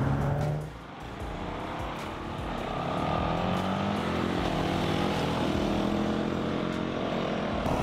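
A 2019 Honda CRF450L and a Husqvarna FE501 dual-sport motorcycles ride together, a continuous broadband engine drone with wind rush, steady and fairly loud after a brief dip near the start.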